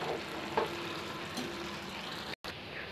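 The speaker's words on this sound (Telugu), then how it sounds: "ఫ్రై చేసిన చికెన్ ముక్కల్ని వీటి మీద మూత పెట్టేసి సిమ్లో పెట్టేసి" Fried chicken pieces on biryani rice simmer under a lid on low heat, giving a faint steady sizzle and hiss with a small knock near the start and a momentary cut-out just before the end.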